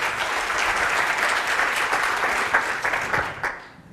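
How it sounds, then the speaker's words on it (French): An audience at a personal-development lecture bursts into steady applause, dense hand clapping that holds loud and even for several seconds before starting to fade at the end. "Applaudissez-vous."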